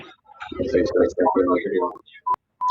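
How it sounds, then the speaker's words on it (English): A single short tone, then a second steadier one, from an unmuted phone on an online board-meeting call sounds like dialing. The tones follow a stretch of overlapping talk. "Someone needs to mute their phone there."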